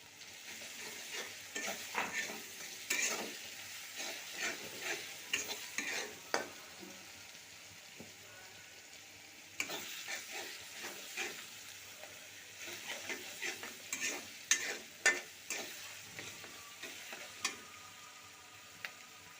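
Spice paste for a Bengali fish dish stir-fried in a pan, giving a quiet, steady sizzle broken by frequent scraping strokes of a spatula in irregular bursts, with no talking.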